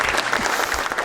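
Studio audience applause on an EBS family game show, a dense, steady burst of clapping filling the whole short moment without a break.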